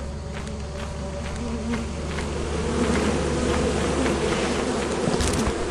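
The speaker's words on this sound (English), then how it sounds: "Trigger the bees." Swarm of bees buzzing steadily in a video game, a dense continuous drone that grows slightly louder partway through, with no talking over it.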